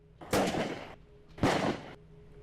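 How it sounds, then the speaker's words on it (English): Propane bird-scare cannons in a Napa County vineyard during grape harvest fire two loud, sharp booms about a second apart, each ringing out briefly before fading over a quiet background. "Farmers across Napa County use propane cannons to scare away birds during harvest season."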